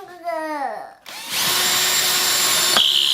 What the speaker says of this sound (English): so I'm just going to drill.